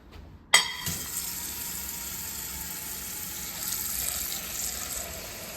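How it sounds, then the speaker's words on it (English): A kitchen faucet is turned on with a sharp click, then water runs steadily into a sink, a continuous hissing splash. "Gotta turn the faucet off, I'm out of hands."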